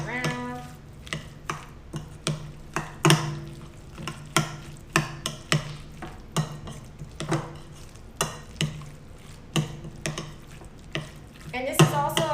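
Parsley and dill being mixed into food in a bowl, heard as a close, rhythmic series of scraping and clinking strokes, roughly one or two per second, with no talking.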